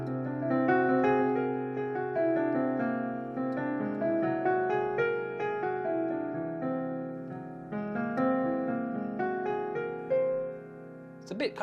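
Music on a whole tone scale, neither major nor minor: clear sustained pitched notes step through a wandering melody over held chords at a moderate, even volume, with no voices.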